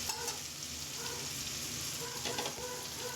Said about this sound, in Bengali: মাছগুলো আমি এখানে ভেজে নিচ্ছি, ভেজে আমি তুলে রেখে দিচ্ছি।